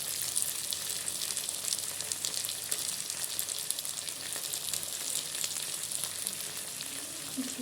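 Dense, continuous sizzle of spices frying with tomato and ginger-garlic paste in a hot pan, close and steady with faint stirring scrapes.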